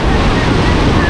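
Typhoon floodwater in Sta. Rosa, Laguna rushes in a loud, close, continuous roar, mixed with heavy wind buffeting on the microphone.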